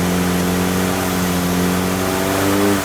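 Big block engine on a dyno in fourth gear, held at high road speed with a loud, steady drone whose tone rises slightly near the end.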